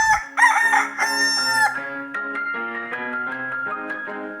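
A rooster crows once, loud and close, its long drawn-out call trailing off slowly with no other sounds around it.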